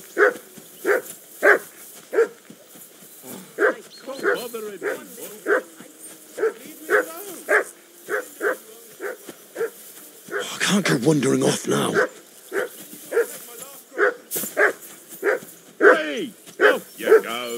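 A dog in Kingdom Come Deliverance II barks relentlessly in a steady, rapid rhythm for many seconds, close and loud, while someone speaks briefly over it and a burst of noisy commotion cuts in midway.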